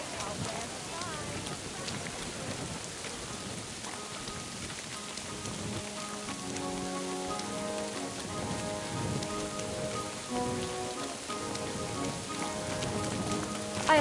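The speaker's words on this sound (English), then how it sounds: "Don't mind the rain." Steady rain patters in the medieval video game Kingdom Come Deliverance 2, a constant hiss of raindrops that runs underneath faint tonal music and distant voices.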